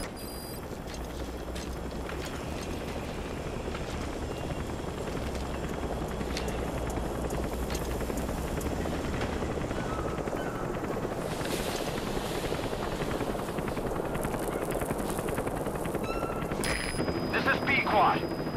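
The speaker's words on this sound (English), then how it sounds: "Chopper will be able to get in close now." Helicopter from Metal Gear Solid V: The Phantom Pain arriving near an outpost, a steady rotor drone and wind-like rush that holds throughout, with a faint low thrum, no talk.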